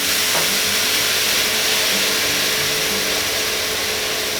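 Brandy poured into a hot pan for French pepper steak sets off a loud, steady, close hiss and sizzle that holds without a break.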